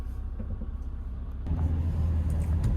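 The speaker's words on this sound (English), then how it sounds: "Here's the snap-on van coming in." A Snap-on tool van drives in, a low engine rumble that swells and grows louder partway through as the vehicle approaches.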